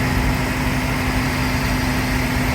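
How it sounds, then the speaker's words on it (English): Ford Mustang GT, 2024, with a 5-liter Coyote V8, idles at a steady, close, unbroken drone with a constant low hum and no talk over it. "Under the hood, of course, we have the 5-liter Coyote V8."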